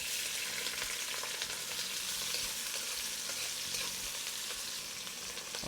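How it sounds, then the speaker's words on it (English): Onion frying in hot oil in a pot for curry turkey, a dense continuous sizzle and crackle holding steady throughout with no talking. "Start the boiler rolling with the oil. So now I'll put the ingredients one by one,"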